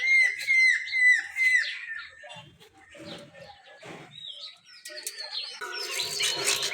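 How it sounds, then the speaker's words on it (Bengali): Assorted birds call and chirp around a village home, with bright, layered tweets and whistles densest at the start and end, a fainter stretch in the middle where a voice briefly murmurs. "সব রকম পাখির ডাক শোনা যায়"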